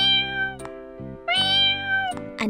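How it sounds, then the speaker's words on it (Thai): A cat meows two or three times, long drawn-out rising and falling cries with short breaks between them, close and clear with no talk. "อันนี้แม่นโต แมว"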